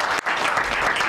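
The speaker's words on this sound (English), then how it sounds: "We'll clap for him now." A studio audience gives brief applause for a national president of a medical laboratory scientists' association, a dense burst of clapping with a momentary dip near the start, loud and unaccompanied by speech.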